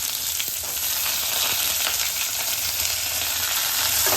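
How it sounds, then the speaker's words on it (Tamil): Onions and curry leaves sauté in hot oil with chana dal for wheat rava upma, producing a loud, continuous, even sizzle close up with no pauses. "இப்போ இந்த வெங்காயம் கொஞ்சம் வதங்கணும்"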